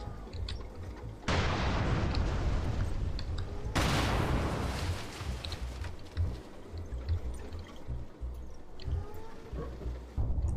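T-55 tank ammunition racks cooking off in GHPC, loud sustained roaring bursts with a rushing hiss, broken by repeated pops and crackles that keep going, with occasional faint talk.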